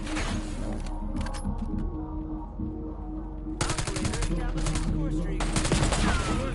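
Call of Duty Cold War gunfire rattles in loud, dense automatic bursts, one early cluster and a longer stretch later, over a continuous battle din, with no talk over it.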